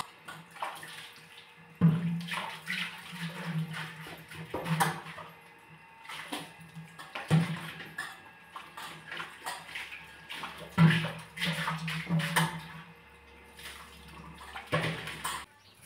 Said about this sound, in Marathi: हे पाणी भरायला लागलेत